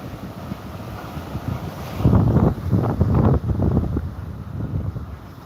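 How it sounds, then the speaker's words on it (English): A strong gale blows along the seashore, roaring and buffeting the microphone in heavy gusts that swell loudest midway, with surf-like rushing underneath and no voices. "it's blowing an absolute gale"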